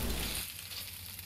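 Battered shrimps frying in oil in a wok over medium heat, a steady close hiss and sizzle that runs throughout, louder at the start and settling slightly after.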